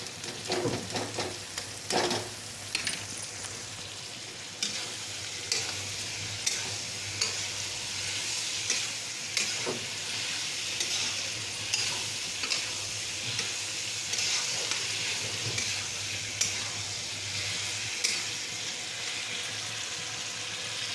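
Chopped capsicum fries in hot masala in a pan for pasta, sizzling steadily under regular scraping stirs that come about once a second, close and clear with no talking.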